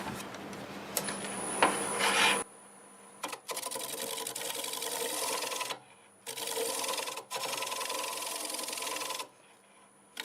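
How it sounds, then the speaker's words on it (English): Scraper working redbud wood spinning on a lathe, a steady close rasping hiss over the motor hum, broken into several passes by brief pauses, with no talk. "I'll go ahead and go over it with the scraper, and then we'll do some sanding."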